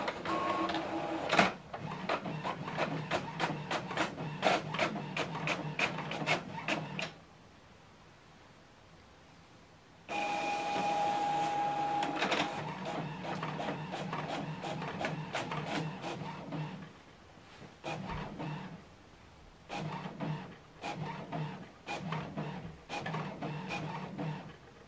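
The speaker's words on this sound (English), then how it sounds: "So we're going to print this document double-sided" An HP Officejet 8015e inkjet printer prints a document double-sided, with steady mechanical whirring and rapid ticking clicks. It falls quiet for a few seconds midway, then resumes with intermittent paper-feed bursts near the end.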